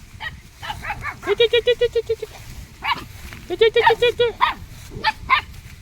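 A dog on a rural lot with bamboo barks in two rapid volleys of about half a dozen sharp yaps each, fairly close, followed by a few scattered single barks.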